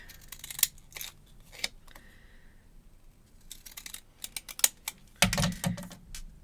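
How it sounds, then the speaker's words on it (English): Several crisp snips of decorative scissors cutting paper at uneven intervals, close and fairly quiet, ending in a louder rustling burst of paper. "And use the deco scissors as well."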